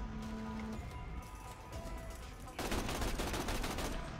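A player's gun in Borderlands 2 fires rapid automatic bursts that begin abruptly partway through and continue as a loud, dense clatter over a steady game background.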